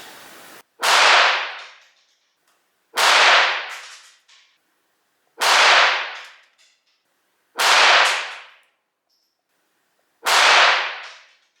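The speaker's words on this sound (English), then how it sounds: "Let's do 1 more 5-round group, and then we're going to end the session with a 10-shot group" Five sharp .22 rifle shots firing CCI Mini-Mag cartridges ring out at the range, evenly spaced about two seconds apart, each a loud crack with a short decaying tail.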